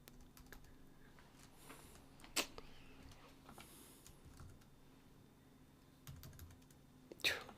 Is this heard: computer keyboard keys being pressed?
yes